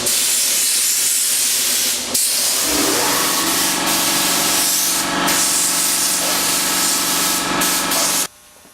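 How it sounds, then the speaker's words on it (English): A metal back rack for a dually truck is wiped down with wax and grease remover before priming, giving a steady, loud hissing rub with a few brief breaks and a sharp cutoff near the end. "Then I'm going to wipe it down with some cleaner, wax and grease remover"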